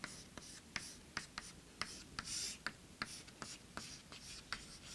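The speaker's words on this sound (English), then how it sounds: "I write this formula." A formula being written by hand, pen strokes tapping and scratching in short irregular marks, faint and close, with no talking.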